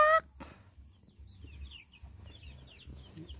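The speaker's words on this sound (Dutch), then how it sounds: "Je heeft nog een paar kippen." Soft, scattered clucking from a few chickens nearby, with a brief rustle at the start and low background rumble.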